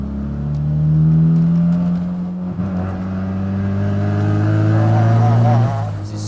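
A 1972 Mazda RX3 Savanna restomod with a turbocharged 13B rotary engine revs hard and close, its buzzing note climbing and falling across two long pulls, loud and unbroken, without any talking.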